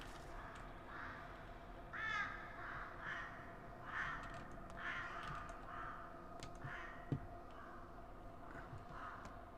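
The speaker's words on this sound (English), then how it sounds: "that's birds" Crows caw repeatedly against a steady game ambience in Pathologic 2, the harsh calls coming at irregular intervals, moderately loud, with a brief click near the end.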